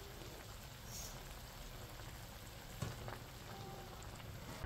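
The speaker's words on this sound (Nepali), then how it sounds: "यहाँ गरम पानी उम्लिँदैछ" Banana flower boils in a pot of hot water, a faint, continuous bubbling patter with a couple of small knocks, heard close but quiet.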